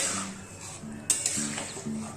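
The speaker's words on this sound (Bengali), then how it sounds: "এটা কিন্তু নাড়তে থাকতে হবে," A spoon stirs vegetable sabu khichuri with cauliflower in a pan, giving soft scraping and light clinks of metal on the pan against a faint background hiss, close by, with no speech.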